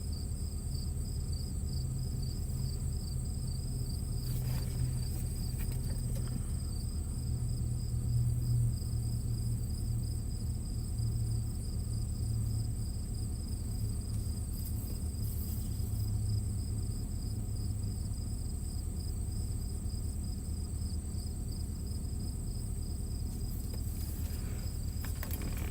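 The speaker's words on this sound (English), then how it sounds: "Can you guys hear the crickets?" Crickets chirp at night in Norwalk, Ohio, a steady high pulsing trill from many insects that never lets up, over a constant low rumble of wind or distant noise, with no voices.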